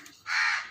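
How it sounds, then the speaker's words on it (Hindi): A single short, raspy crow caw, close and clear, in a Hindi children's cartoon story. "कालू कौवा बारिश में खेतों में जाता है"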